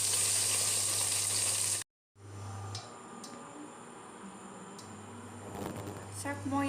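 Fish frying in oil in a pan, a bright steady sizzle with a brief cut partway through, then a quieter crackle with light clinks. A voice talks over it near the end.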